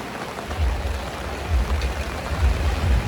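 Heavy rain pours onto a quiet road, a steady dense hiss with low rumbling surges, close and continuous without any voices.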